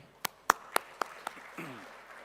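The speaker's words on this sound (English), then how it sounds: "And a big round of applause also to our partner" A handful of separate, evenly spaced claps ring out in a large hall at a corporate awards ceremony, five distinct sharp hits fading into a voice beginning to speak.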